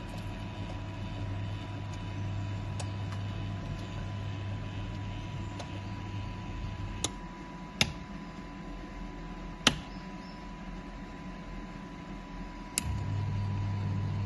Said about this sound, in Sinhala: මෙන්න මේ විදිහට තමයි රොටේටින් ප්‍රොසෙස් එක වෙන්නේ මැෂින් එකේ